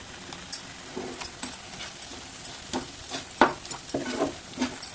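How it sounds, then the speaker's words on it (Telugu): Fish curry seasoned with chilli powder fries in a pan, a soft sizzle under scattered scrapes and clinks of a spoon stirring against the metal, close and fairly quiet. "బాగా వేయించుకోండి కలర్ వచ్చే వరకు ఇంకా చూడండి ఆయిల్ కూడా సైడ్న వచ్చేస్తుంది"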